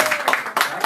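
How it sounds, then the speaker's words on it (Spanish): Brief, loud applause bursts for the teacher at a building handover event at Usiacurí's cultural center, rhythmic clustered claps close by in under a second. "aplauso para el profe"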